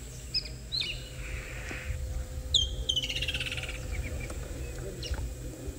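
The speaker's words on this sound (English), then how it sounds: "You can hear the sound of summer in the background, the woodlands kingfisher." A woodland kingfisher calls on a summer evening on an African safari, with a sharp descending trill and a few shorter chirps over a low rumbling background, some way off.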